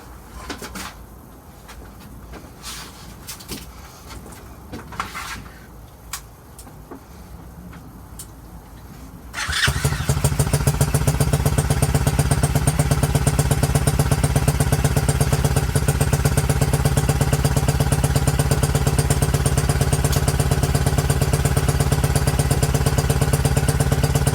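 A 90cc TaoTao ATV engine is cranked and started on choke after some clattering handling noises, then settles into a loud, steady, high idle that runs on without pause.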